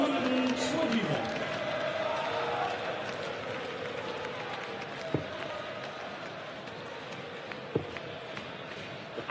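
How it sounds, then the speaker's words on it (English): A darts crowd at the Melbourne Darts Masters chanting and shouting for Michael Van Gerwen, a broad arena roar that is loud at first, fades to a murmur, with occasional sharp thuds and a commentator talking over it. "The crowd shouting for Michael Van Gerwen there"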